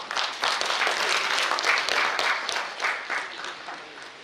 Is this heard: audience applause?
yes